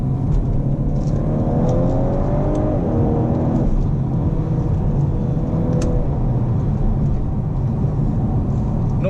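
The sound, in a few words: Stage 1 Audi A5 2.0L Quattro accelerating in first gear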